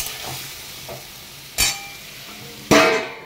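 Food sautéing in a pan with a steady sizzle underneath, broken by a few sharp stirring scrapes, two of them loud and close near the end.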